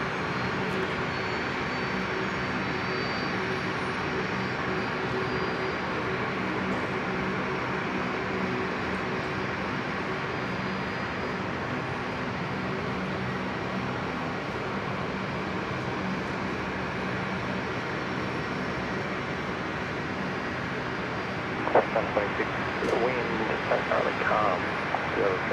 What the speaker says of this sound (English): I say that it is flying out. It's going to Gladstone, the Fokker 70